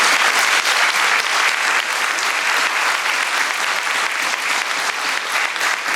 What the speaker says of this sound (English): let's give our strikers here a big round of applause